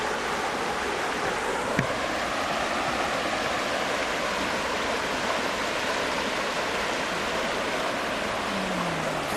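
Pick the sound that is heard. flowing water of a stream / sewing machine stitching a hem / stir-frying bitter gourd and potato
flowing water of a stream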